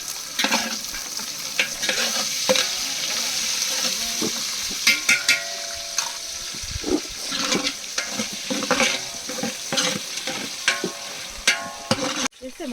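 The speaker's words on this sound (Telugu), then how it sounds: "ఇప్పుడైతే ఆనియన్స్ పచ్చిమిర్చి వేసుకుని కొంచెం గోల్డెన్ బ్రౌన్ కలర్ వచ్చే వరకు ఫ్రై చేసుకోవాలి" Onions and green chillies frying in oil for a large chicken pulao cooked outdoors in a forest area, a steady close sizzle with frequent stirring scrapes and utensil clatter against the pot.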